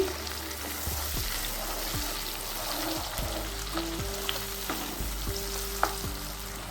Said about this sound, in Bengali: টমেটো পেস্টটা দিয়ে একটু ভেজে নিচ্ছি